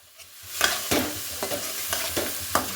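Tomatoes hit a hot pan and sizzle, with a steady frying hiss and about five or six regular stirring scrapes close up, no speech.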